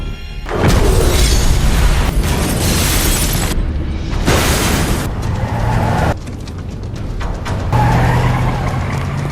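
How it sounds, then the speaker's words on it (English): A bomb detonated remotely in an action film explodes in a loud, heavy blast with a deep boom, followed by rumbling, debris and further bursts that stay loud and dense throughout. "he detonates the bomb remotely, killing several pursuers"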